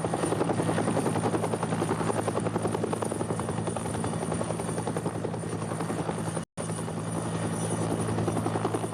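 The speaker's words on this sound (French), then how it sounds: "Nous devions accompagner cet hélicoptère" A helicopter flies overhead during the conflict in Tigray, its rotor a steady, loud chopping throb with a high engine whine that holds throughout, broken only by one brief gap.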